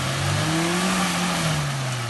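A Pajero Mini's small engine revs hard while its all-terrain tyres spin for grip, a loud sustained drone with the pitch rising and falling slightly.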